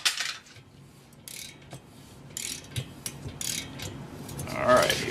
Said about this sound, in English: I've got my torque wrench set, so let's see how this goes here.